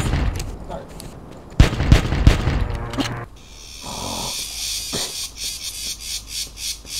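Gunfire rings out in the dinosaur-hunting game Carnivores 2: a cluster of sharp, loud shots bursts close together around the middle. A softer rhythmic pulsing follows afterward.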